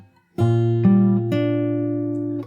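A fingerpicked acoustic guitar chord from an Animal Crossing New Horizons theme arrangement rings out close, its notes entering in three plucks and sustaining together before fading.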